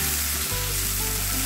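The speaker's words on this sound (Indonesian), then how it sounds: "Kita tumis sampai aromanya keluar atau sampai matang ya." Spices and seasonings stir-fried in a pan for an Indonesian vegetable dish, giving a steady, close sizzle throughout with a low hum underneath and no voices.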